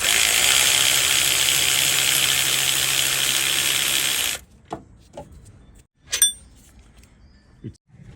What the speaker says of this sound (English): After that I'm going to remove the